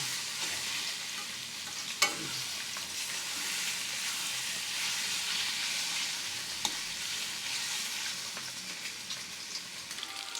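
Eggs frying in oil in a pan, a steady close sizzle and crackle with a couple of sharp utensil clicks, no voices.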